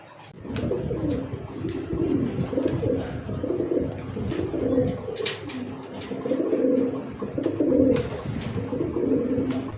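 Several domestic pigeons, including Giribaz, racer, satin and Bombai breeds, coo continuously in low, rolling, repeated phrases close by, with faint clicks and rustles in the background.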